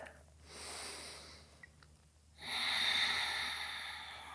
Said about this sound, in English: Breathe here, one breath.